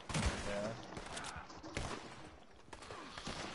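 Pistol gunfire in the video game Red Dead Redemption 2, a rapid burst of sharp, loud shots near the start followed by scattered single shots and echoing reports, with background game sounds.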